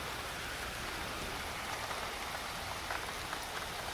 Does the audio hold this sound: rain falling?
yes